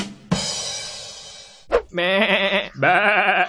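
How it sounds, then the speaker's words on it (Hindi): A goat bleats loudly and close by on Bakra Eid, with three drawn-out, quavering calls separated by short pauses. "ये बकरे की आवाज क्यों नहीं आ रही"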